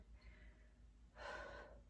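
During a wide-legged windmill mobility drill for runners, two breaths sound close to the mic: a faint inhale, then a stronger, audible exhale.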